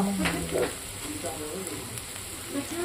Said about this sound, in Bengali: পেঁয়াজে একটু লবণ অ্যাড করে দেবো। দিলে পেঁয়াজটা তাড়াতাড়ি ভাজা হয়ে যাবে